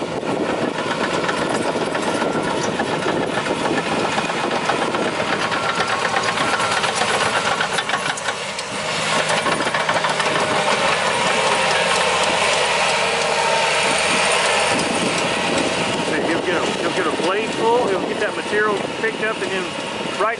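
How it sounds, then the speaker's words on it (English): A crawler dozer with a hydrostatic transmission slot trenching, its diesel engine a loud, steady, close rumble with knocking tones and track clatter that carries on throughout, with no break in the noise. "So this is what we call slot trenching, typical application for a dozer."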